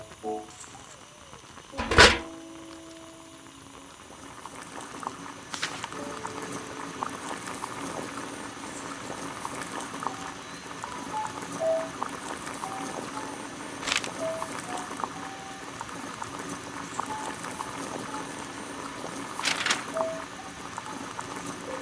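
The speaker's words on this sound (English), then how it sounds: "Boil water in kettle." Water heating in a kettle on a gas burner in a Sherlock Holmes video game, a soft steady bubbling hiss under faint background tones, opened by a sharp click and punctuated by a few light clinks.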